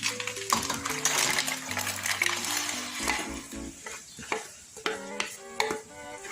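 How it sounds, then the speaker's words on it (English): Clams dumped into pasta in a pan and stirred, with a dense tumbling rattle of shells at first, then scattered clinks and scrapes over a faint sizzle. No one speaks. "Take your clams, dump it all in."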